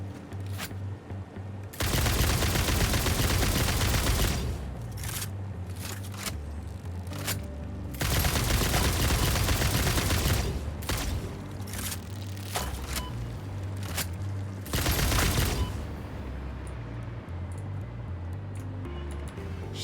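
Explosive grenade blasts in the factory-building game Satisfactory, a series of loud booming detonations in broadband bursts with shorter cracks and bangs between them, continuous and dense with no talking.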